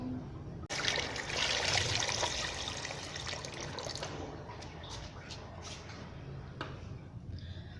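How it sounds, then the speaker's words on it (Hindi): Water pours steadily into a cooking pot of beef trotters, with a continuous splashing trickle, ending in a few scattered drips and clinks. "अब इनमें पानी ऐड करेंगे।"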